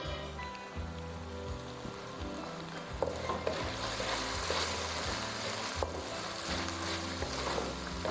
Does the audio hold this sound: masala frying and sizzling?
yes